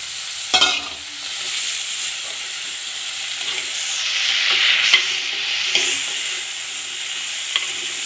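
Small chopped pumpkin pieces with the skin on go into a hot pan for poosanikai theeyal: a thud-like drop near the start, then a continuous close sizzle with occasional stirring scrapes that swells midway, with no one speaking.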